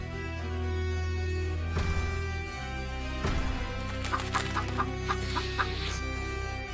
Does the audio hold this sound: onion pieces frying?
no